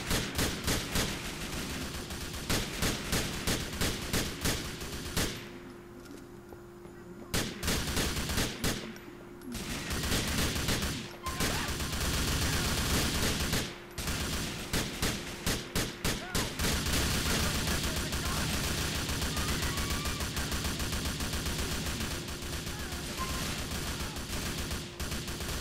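Gunfire fills a multiplayer GTA police roleplay firefight, with dense bursts of rapid automatic shots and scattered single cracks running almost nonstop, broken by two brief lulls.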